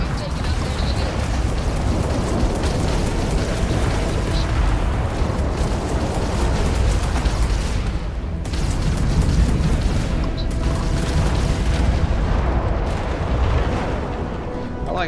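Missile launches and explosions in a space battle in the video game Starfield: continuous loud rumbling booms and bursts, dense and unbroken, with brief dips, under someone talking.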